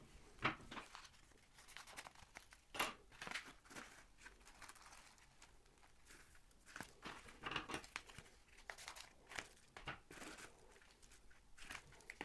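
Small packaging for an iPhone 7 Plus camera lens protector glass being opened up close, with a string of crinkling, tearing and rustling sounds in irregular bursts, fairly faint, with no voices.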